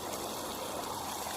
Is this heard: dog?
no